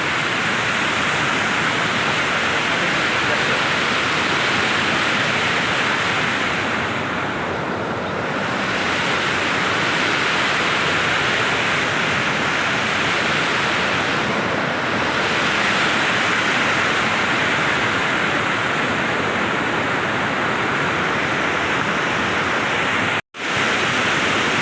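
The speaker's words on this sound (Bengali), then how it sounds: "পাহাড়ের মধ্যে কি সুন্দর একটা নদী, আর সেখান দিয়ে পানি যাচ্ছে, হাঁ হাঁ করে পানি যাচ্ছে" A river rushes through the hills near Hetauda, Nepal, its loud, steady roar of fast-flowing water continuing unbroken throughout with a brief dropout near the end.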